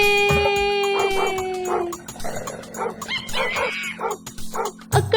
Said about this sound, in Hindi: बंदर जी के तेवर देख के जोर से कुत्ते भौंके